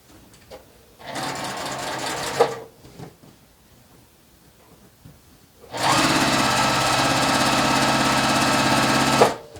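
A sewing machine stitches quarter-inch seams on a small log cabin quilt block in two separate runs. The first is a short burst and the second a longer, loud, steady whir, with quiet handling sounds in between.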